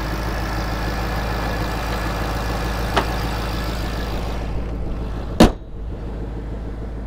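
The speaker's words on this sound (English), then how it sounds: "It gives you that really nice American V8 sound without being obnoxious about it." A 2014 Ford Mustang Roush Stage 3 with a V8 engine idles with a steady, deep rumble from close by, interrupted by a couple of short clicks and a sharp knock near the end, with no talk.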